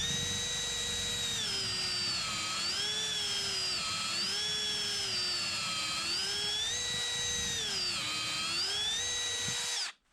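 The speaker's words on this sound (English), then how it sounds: "I'm doing a little test now with the Kreg jig" A cordless drill whines steadily and loudly for about ten seconds, driving pocket holes with a Kreg jig, its pitch dipping and rising in regular surges, then cuts off abruptly.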